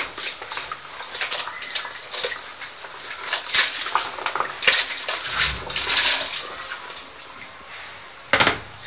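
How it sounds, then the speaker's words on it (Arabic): Potato fingers slide into a pot of boiling water on a home stove, giving irregular splashes, bubbling and light clinks of metal against the pot in close, uneven bursts with no talk. "دي بقى هسقطها في الميه اللي بتغلي ديت"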